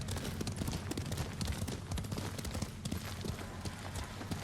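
Horse hooves gallop in a fast, continuous drumming rhythm in the video game Ghost of Tsushima, loud and close, with a dense low thudding that holds throughout.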